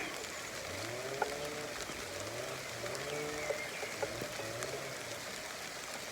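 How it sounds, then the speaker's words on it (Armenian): Steady rain falls in an even, continuous patter with a few sharper drops, while faint voices murmur underneath. "Անձրևը վրա կալա։"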